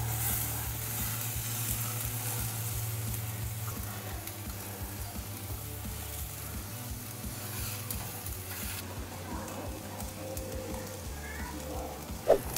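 Pinoy pork barbecue skewers sizzling on a grill, a steady crackling hiss that continues throughout with a low hum beneath and one sharp clack near the end.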